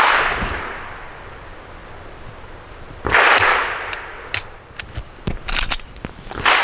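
Shots from an Arex Zero 1 T pistol ring out at an outdoor range. One loud report comes first, then a quicker string of sharp cracks follows after a pause, with echoes trailing behind.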